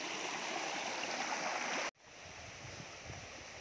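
Constant rushing water from Dabarkhola Waterfall in Badamba, Cuttack, flows for about two seconds, cuts out abruptly, then resumes as a softer, rougher watery rumble.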